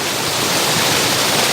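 A strong creek current rushes and splashes in a loud, continuous roar, heard close up without any break.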